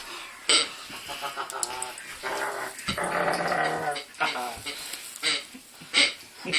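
A puppy growls and snarls in bursts during play indoors at close range, with a person's voice talking and making playful roaring noises in between.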